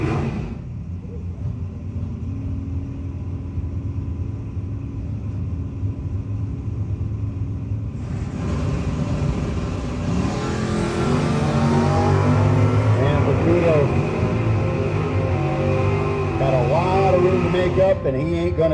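Cars launch in a drag race pairing with a 4th gen Mazda Roadster, engines rumbling at idle before a loud, swelling roar builds as they accelerate away, with an announcer's voice over the noise.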